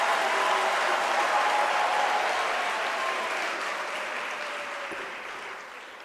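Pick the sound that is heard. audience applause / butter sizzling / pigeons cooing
audience applause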